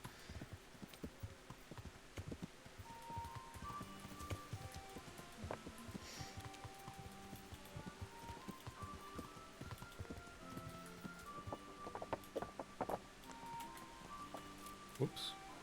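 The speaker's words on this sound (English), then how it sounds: "Everyone's running to get away from the rain." Steady rain patters in Kingdom Come Deliverance, a medieval video game, with horse hooves clopping and soft musical tones over the continuous downpour.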